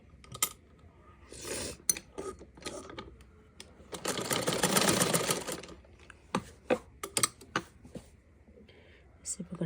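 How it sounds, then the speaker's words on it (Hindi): A sewing machine stitches folded fabric in a short, continuous whirring run, framed by clicks and fabric handling, with soft speech nearby. "अब हम इसको सिलाई लगाएंगे।"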